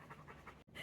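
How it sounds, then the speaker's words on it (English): A dog pants fast and rhythmically after a long walk, its short breaths close and soft, broken by a brief gap before it resumes. "He's already had some water, and he's just a panting."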